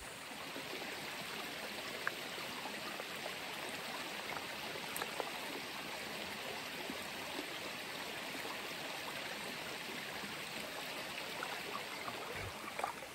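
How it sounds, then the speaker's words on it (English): Mountain stream rushing in a constant, even wash of water, steady and close with no talk. "So I'm gonna go in this stream here and fill it up."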